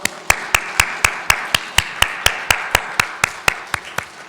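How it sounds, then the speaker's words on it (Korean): Church congregation at a New Year's Eve worship service clapping in a steady, even rhythm, about four sharp claps every second, loud and close, with a faint hum of the room underneath. "하나님께 영광 박수 올려드리겠습니다."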